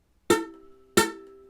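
Two separate ukulele notes are plucked with too little fretting pressure. Each is a sharp attack with a short, buzzy decay, heard alone and close.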